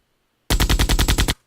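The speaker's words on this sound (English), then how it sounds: "That's a gunshot." Video game gunshot sound effect: a rapid burst of about eight loud automatic shots in even rhythm, close and dry, alone against silence.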